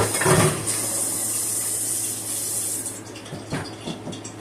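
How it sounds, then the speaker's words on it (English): Tap water running over hands at a kitchen sink while prawns are being fried, a steady broad splashing stream that stops abruptly about three seconds in, followed by a few soft knocks, with no talking. "Let me rinse my hands real quick"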